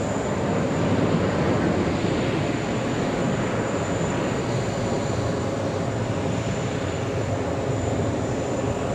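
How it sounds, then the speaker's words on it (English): An Asiana Airbus A380 at JFK airport gives off a constant broad jet rumble throughout, moderately loud and unbroken, with no voices. "We have Asiana Airbus A380."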